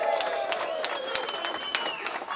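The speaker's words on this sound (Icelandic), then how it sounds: "Við skulum gefa Robba gott" A crowd applauds an honorary member of the Reykjavík Blues Society, a steady spatter of clapping close by, mixed with faint tonal sounds and murmuring throughout.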